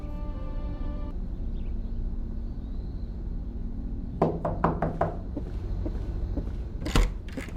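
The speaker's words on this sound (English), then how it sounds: "there was a knock at the door." A door is knocked on in the video game Once Upon A Mind, with a quick cluster of about five sharp raps followed a couple of seconds later by a few more. The knocks sound near and stand out over a low ambient hum.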